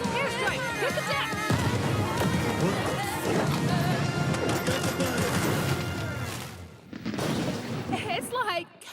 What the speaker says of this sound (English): Airstrike! Hit the deck!